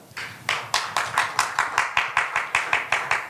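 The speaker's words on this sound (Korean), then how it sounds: "박수 좀 치세요" A small group at a health lecture during a fasting retreat claps in a steady, rhythmic beat, with crisp, evenly spaced claps close by that start after a brief pause and continue without talk.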